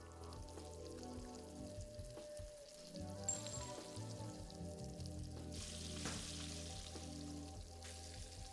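Eggs frying in a cooking video game: a steady soft sizzle and crackle continues throughout, fairly quiet with occasional small pops and no talking.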